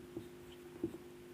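Two quick, faint writing strokes scratch across a surface while a math problem is worked out, each a soft brief scrape in an otherwise quiet room.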